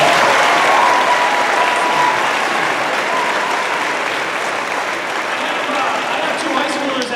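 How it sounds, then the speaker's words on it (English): A crowd gives a school band a round of applause, steady, dense clapping that stays loud and even throughout, with faint voices mixed in. "Let's give the band another round of applause."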